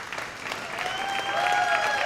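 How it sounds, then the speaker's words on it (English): Audience applause breaks out for a coach on a sports coaches' show, a steady wash of clapping that swells slightly toward the end, with a faint tonal whistle or feedback running through it. "How about a round of applause for Omar Graham here?"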